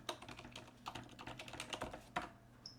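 Quick, irregular keystrokes on a computer keyboard clatter up close, with short bursts and pauses and no talking.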